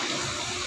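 Water pours steadily while a mineral water filter membrane is being cleaned, a continuous close rushing splash with no pauses and no talking.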